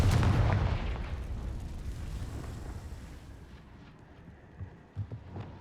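A Confringo fire spell in Hogwarts Legacy bursts with a loud, deep blast at the very start, then rumbles away into quieter debris with a few soft thumps.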